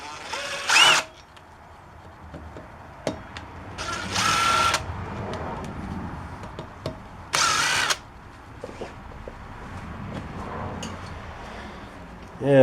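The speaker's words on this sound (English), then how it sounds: "we'll be using a T25 to remove the bolts for the cover for the hub assembly" A power driver fitted with a T25 bit spins out the hub cover bolts on the front of a 2001 Polaris Sportsman ATV, three separate loud whirring bursts of a second or so each, with quieter workshop handling sounds between them.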